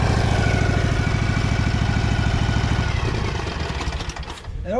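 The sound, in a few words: Husqvarna 2346XLS lawn tractor running with PTO engaged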